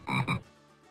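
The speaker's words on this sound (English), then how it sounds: "there's a frog on my head" A frog croaks twice in quick succession, loud and close, followed by a short quiet tail.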